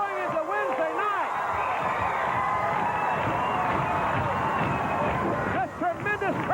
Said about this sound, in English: This tremendous crowd really getting into this one